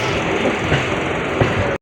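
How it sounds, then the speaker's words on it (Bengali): A Kolkata Circular Railway train pulls out of Tala station with a steady close rumble and faint clattering of the carriages, heard briefly and without talk. "ট্রেন এখন আমাদের ছেড়ে দিল টালা থেকে।"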